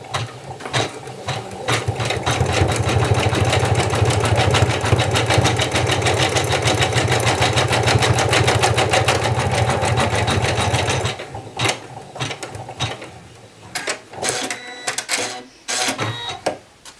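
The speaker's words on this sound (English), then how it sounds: "we're going to run a bean stitch over it now that it's been cut out" Sewing machine running a bean stitch around a cut-out felt applique, a fast even needle rattle for about eleven seconds, then stopping and starting in short uneven bursts.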